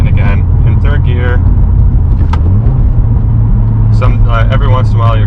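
A Subaru WRX with a Borla S-Type exhaust downshifts with rev matching, its engine a steady, loud low rumble with a brief rise in pitch midway, while someone talks over it throughout.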